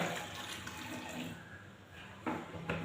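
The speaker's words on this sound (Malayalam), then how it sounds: "കുറച്ച് വെള്ളം ഒഴിക്കാം" Water is poured into a kitchen container holding a small cut piece of milk packet: a steady, close splashing rush that continues with a few brief bursts near the end.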